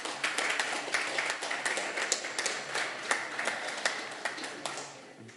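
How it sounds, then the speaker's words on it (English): A graduate school honors and awards audience claps for the award recipients, a faint, steady patter of many hands heard from a distance with no voices over it. "let's give everybody a round of applause"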